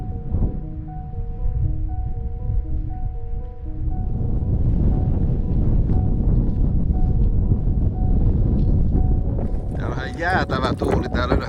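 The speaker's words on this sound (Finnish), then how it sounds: "Jäätävä tuuli täällä ylhäällä." Strong, icy wind buffets the microphone high on a fell on the Halti hike, a continuous low roar, with a steady tone early on and brief rustling at the end.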